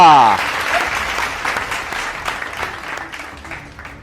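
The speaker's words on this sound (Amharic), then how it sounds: "ሞቅ ያለ ጭብጨባ" Warm applause from a cooking competition audience, loud at first and gradually thinning out as clapping fades over a few seconds.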